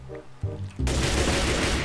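Gunfire in Minecraft during a survival challenge on a zombie-filled island: after a couple of soft thumps, a dense burst of rapid shots erupts and continues loudly to the end.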